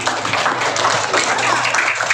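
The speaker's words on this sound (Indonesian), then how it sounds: "Tepuk tangan lagi." Schoolchildren clap together at a Ramadan religious program in an Indonesian elementary school, a dense, steady burst of applause filling the room for about two seconds.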